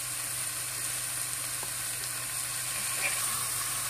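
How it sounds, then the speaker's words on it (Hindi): Onion and garlic tempering with asafoetida sizzling in hot oil for Punjabi sarson ka saag, an even, continuous close sizzle with light crackle and no voices. "ये प्याज और लहसुन को मैं गोल्डन ब्राउन करूंगी।"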